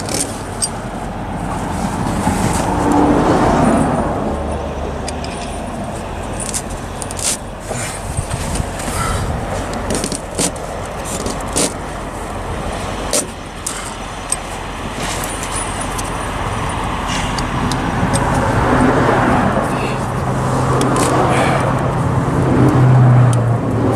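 Steady road noise from a vehicle driving along, a continuous low rumble and hiss of tires and engine that holds at an even level throughout, with no talk.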